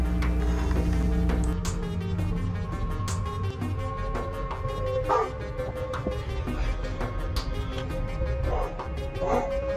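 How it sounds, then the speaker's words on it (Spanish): A dog barks a few times at a distance, short sharp yaps scattered over a steady background hum. "se puede oír los ladridos de un perro"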